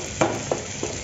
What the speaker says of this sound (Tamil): இப்போ நறுக்கி வச்ச தக்காளி ஆட் பண்ணிக்கோங்க. ஆட் பண்ணிவிட்டு இதையும் நல்லா கலந்து விட்டுக்கோங்க.